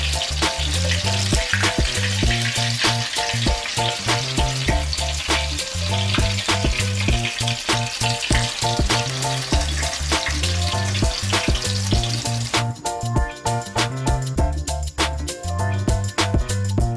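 Soft-shell crab deep frying in hot oil, a dense steady sizzle holding loud and close throughout, with the bubbling thinning slightly toward the end as the crab finishes cooking.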